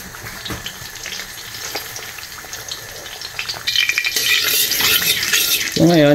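Onion rings for a topping fry in oil with a steady sizzling hiss that swells louder and rougher partway through, ending with a brief rising tone.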